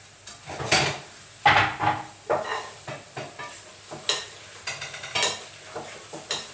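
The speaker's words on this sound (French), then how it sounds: "Et on mélange bien." A tomato, basil and finely chopped black olive mixture is stirred in a pan with a utensil, giving repeated scraping, clattering strokes at an uneven rhythm over a faint sizzle, close and moderately loud, with no talking.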